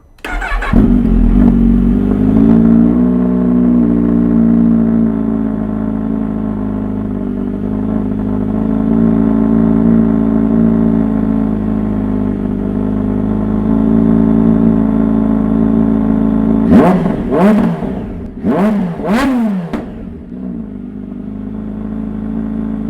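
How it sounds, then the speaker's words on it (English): A Kawasaki H2 SX SE fitted with a Scorpion slip-on exhaust starts up loud and close in a garage, then idles steadily for a long stretch before several sharp revs near the end. "Now we'll start it up again and see if there's a difference."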